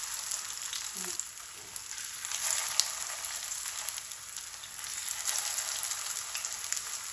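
Potato and rice tikki fry in hot oil over medium heat, giving a steady, close hiss of sizzling that runs unbroken with no one talking.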